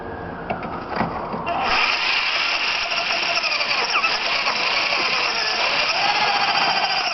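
A power drill whines steadily at high pitch as it bores through thick steel frame rail of a 1997 Ford Ranger, loud and close, running continuously after a short start.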